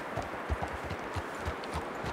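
Horse hooves clip-clop in Red Dead Redemption 2 at a steady walking rhythm, several animals moving through snow, with soft muffled thuds against faint wind in the background.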